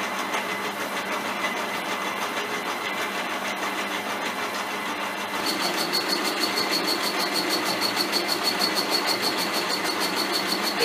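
A milling machine takes a very light cut, a steady mechanical hum that gains a brighter, faster-pulsing whine partway through as the table is fed by hand, loud and close with no talk.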